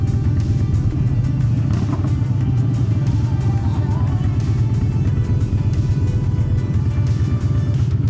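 Squatted pickup trucks rumble past on a road at sunset, a loud continuous low engine drone with steady motor noise throughout.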